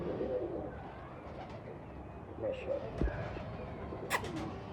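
Laal Pari pigeons coo softly in short, low, throaty calls, with a sharp flutter or clack close by, under a voice talking.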